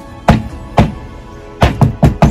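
A soap mold full of freshly poured cold-process lavender soap is banged down on a table five times, sharp heavy thunks in two groups, two spaced apart then three in quick succession, close and loud.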